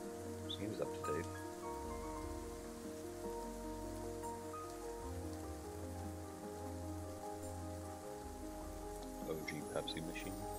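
Steady rain falls inside a VRChat world, a dense continuous hiss of drops on surfaces under low droning tones and a few brief clicks, with no clear talk.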